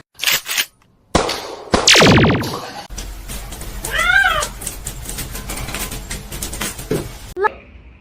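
A kitten meows several times, one rising, drawn-out meow standing out, mixed with close thumps, clatter and bursts of other noise in a home setting.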